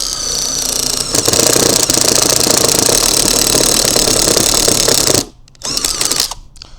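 Loud, continuous rattling whir of an Ozito 18V cordless impact driver hammering hard for several seconds while driving into a hole, then stopping briefly before a short final burst.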